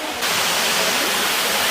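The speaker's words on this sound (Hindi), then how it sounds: "ये झरना है, पानी आ रहा है ऊपर से।" A waterfall at the Rock Garden in Chandigarh, water pouring down from above, starts abruptly and becomes a steady, loud, hissing roar that fills the rest of the moment.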